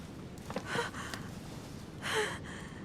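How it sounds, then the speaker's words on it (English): A woman in The Council video game breathes shakily, with a couple of audible gasping inhales separated by quiet pauses, close and soft against a low background hiss. "Her breathing is becoming stable"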